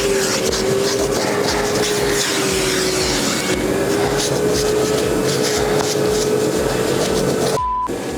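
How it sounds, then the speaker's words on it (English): A vacuum cleaner hoovers the carpet of a Mitsubishi Evo 5RS under rebuild, a loud continuous droning whine with a steady pitch that runs throughout and cuts off abruptly near the end. "So, hoover out, shampoo, and let's see how it comes up."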